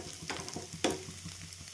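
Neer dosa cooks on a hot pan, giving a steady soft sizzle and frying hiss with a few faint taps. Heard alone, with no talk.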